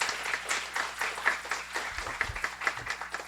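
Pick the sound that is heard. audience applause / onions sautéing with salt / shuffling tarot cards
audience applause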